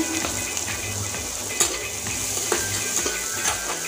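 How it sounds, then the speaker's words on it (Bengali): Chopped onions frying in a pan with a little salt for an egg kalia curry: a steady close hiss of sizzling oil, broken by sharp clicks and scrapes of a spatula stirring against the metal. "এবার পেঁয়াজটা লাল করে ভেজে নেব"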